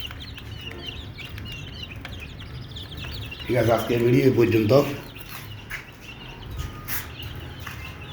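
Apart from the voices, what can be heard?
eleven-day-old chicks chirping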